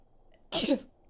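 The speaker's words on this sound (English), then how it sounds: "I sneezed." A video game character in Stray Gods gives a single sharp, loud sneeze lasting about a third of a second, close and isolated against near silence.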